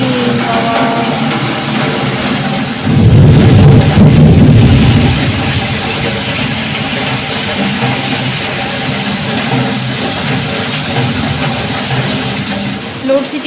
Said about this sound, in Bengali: এখনো বৃষ্টিটা ছাড়লো না